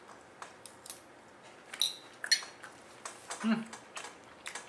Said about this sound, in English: So I'm going to cut one of these up.